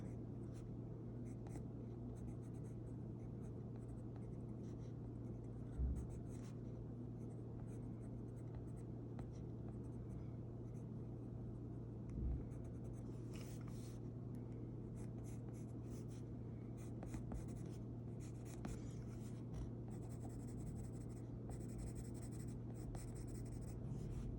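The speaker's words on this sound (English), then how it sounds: "this side I want to do with more brown pencil" Brown pencil strokes scratch across paper during fashion illustration work, a soft, continuous close-up scribbling under a low steady hum, with a couple of faint taps.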